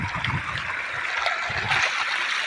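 River water flows steadily with a broad hiss and light gurgling, continuous and fairly close, with faint low rumbles underneath.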